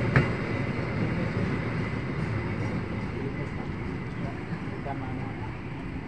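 A freight train rolls through Jatinegara station in light drizzle, a continuous low rumble with wheel and wagon noise holding steady for the whole stretch, with a sharp clank near the start.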